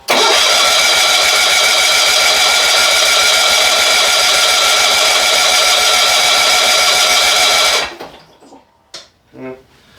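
A flooded John Deere 70 skid-steer engine cranks over with a loud, rapid, rhythmic churning for about eight seconds without catching, then stops dead, followed by a few faint clicks and brief low voices.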